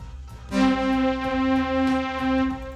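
A bright, buzzy software synthesizer plays sustained 80s-style tones with rich harmonics, starting after a brief pause and holding steady with slight swells.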